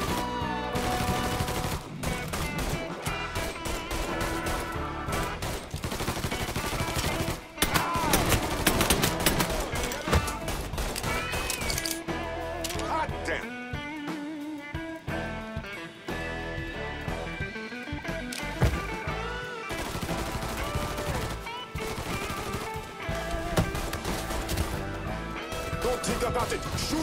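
Rapid gunfire from the video game Mafia 3, dense bursts and shots layered over game music and effects throughout, with a voice speaking over the action.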